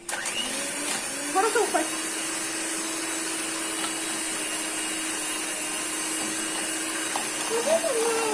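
An electric mixer whirring steadily as baking ingredients are mixed at home, a continuous close hum under children's and an adult's chatter.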